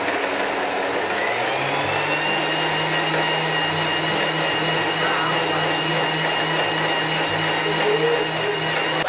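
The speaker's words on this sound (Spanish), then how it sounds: "ahora ha llegado el momento de batir esta mezcla" Blender whirring steadily as it blends a smoothie mixture, a loud continuous motor drone with a high whine that holds for the whole stretch, no talking.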